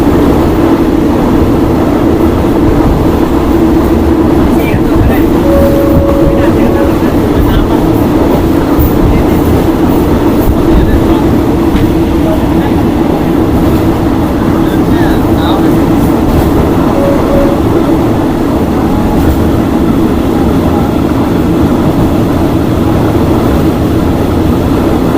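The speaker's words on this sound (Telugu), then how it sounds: "ట్రైన్ ఒక టర్నింగ్ తీసుకుంటుంది." A train on the Death Railway in Thailand winds through jungle while taking a turn. Its steady, loud rumble and rolling wheel noise carry on unbroken throughout.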